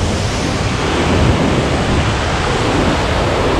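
Water overflowing and rushing over the Pocharam Dam barrage near Hyderabad, a loud, constant broadband roar with no pauses, heard close and alone.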